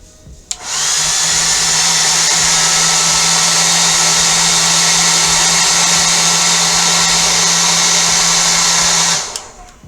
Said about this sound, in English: I'm going to blast it with the hairdryer again.